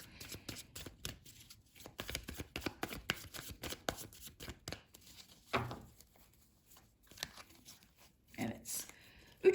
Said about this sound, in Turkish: Şöyle desteği karıştıralım.